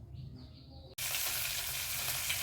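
Fish and a fish head frying in a pan give a sudden loud, dense sizzle that starts partway in and holds steady to the end, after a quieter stretch with a faint chirp.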